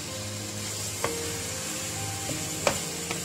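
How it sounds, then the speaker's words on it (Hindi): Chicken pieces fry in hot oil in a karahi for Punjabi chicken karahi, giving a steady close sizzle with a few soft knocks of a spoon stirring against the pan. "इस चिकन को इसमें डाल के सिर्फ 2 मिनट जो है वो भूनेंगे"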